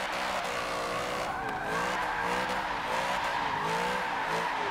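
Car drifting in Forza Motorsport 7 with a new drift suspension, engine droning with wavering revs as tires squeal and hiss through the slide, loud and continuous.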